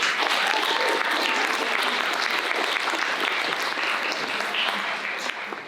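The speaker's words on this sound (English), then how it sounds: "Please give these wonderful certificate teachers yet another round of applause" A packed hall at a high school academies symposium gives a sustained round of applause for teachers, steady thick clapping that fades slightly at the close.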